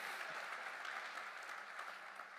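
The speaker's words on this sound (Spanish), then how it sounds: "Dele un fuerte aplauso a Él" A church congregation applauds during a sermon, a steady, fairly distant wash of clapping that continues evenly throughout.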